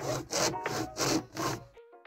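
A 50mm PVC pipe, serving as a cylinder sleeve inside a PLA Plus 3D-printed cylinder body, is hand-sawn to length: four loud, rhythmic rasping strokes close by, then a brief ringing tail as the cut ends.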